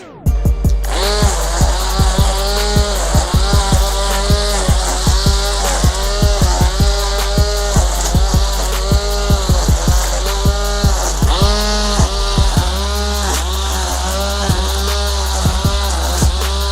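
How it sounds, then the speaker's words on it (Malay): Battery-powered grass trimmer with a string line cutting grass, a loud continuous motor whine with rhythmic pulsing surges as the line bites into the grass, close and steady throughout with no talking. "mesin rumput enjin ke mesin rumput bateri pakai tali ni"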